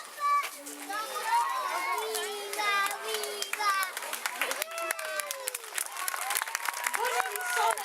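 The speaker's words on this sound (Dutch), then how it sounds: "we nog één groot applaus voor alle deelnemers en spelers" Audience applause rises after a children's Lion King musical at Beringerzand, a steady wash of clapping mixed with excited children's voices and chatter throughout.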